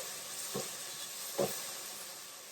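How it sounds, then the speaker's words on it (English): Spaghetti sauce simmers in a pan with a soft, steady hiss, broken by a couple of brief bubbling pops at a fairly low level and close to the listener. "Let's let that simmer for a second, okay?"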